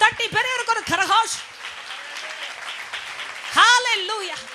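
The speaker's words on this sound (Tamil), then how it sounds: "தேவப்பிள்ளை கரங்களை இன்னும் தட்டி பெரியவருக்கு ஒரு கரகோஷ்." A congregation at a Tamil church sermon applauds with a sustained wash of clapping, running under a loud, amplified voice that speaks over it.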